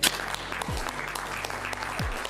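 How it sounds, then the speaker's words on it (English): Big round of audience applause at an evening gathering in Rome, steady crowd clapping throughout with faint tonal background sounds underneath. "I would like to ask for a big round of applause."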